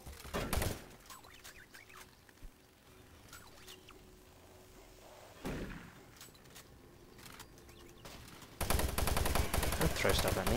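Sentry gun firing in Doom 3 co-op play, heard as scattered gunfire bursts with a dense loud burst at the end, over game ambience and mechanical hum.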